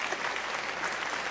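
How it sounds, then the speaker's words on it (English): A crowd at a live show gives a brief, steady burst of clapping for a guest singer, a moderately loud, even wash of applause. "Round of applause"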